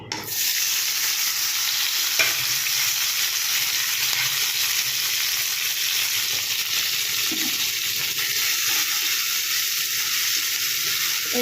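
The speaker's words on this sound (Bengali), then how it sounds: "এবার আমি তেলের মধ্যে পেঁয়াজ আর টমেটো দিয়ে দেবো" Onion and tomato frying in mustard oil give a loud, steady, hissing sizzle that runs unbroken throughout, with a few faint stirring scrapes and no voices.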